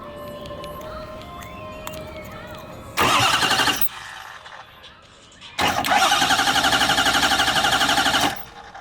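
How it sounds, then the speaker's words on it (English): A Ford 6.0 Powerstroke diesel engine is cranked over with the ignition off, so it does not start, in two loud, rhythmic bursts of starter churning, one short and one longer, close by. "Gonna crank her over for a second without the ignition on"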